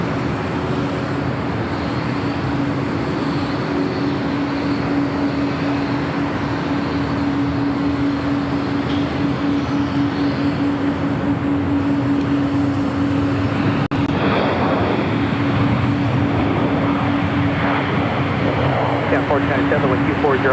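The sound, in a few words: United Boeing 777-200 jet departing runway 25 left at LAX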